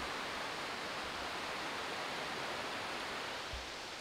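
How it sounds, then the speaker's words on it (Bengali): A waterfall on a sightseeing walk in the Dooars makes a constant, dense roaring wash that fills the whole moment evenly, with no voices over it. "জাস্ট আওয়াজটা শোনো, এই যে ঝর্ণাটার আওয়াজ"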